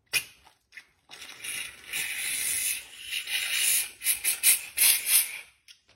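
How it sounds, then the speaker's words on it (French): Compressed air from a compressor nozzle blowing a piston out of a front brake caliper, heard as a close, rising, sputtering hiss with bursts and spurts toward the end, and no talk. "tu prends ton compresseur et tu souffles là-dedans et tu mets surtout pas tes doigts parce que ça pète fort"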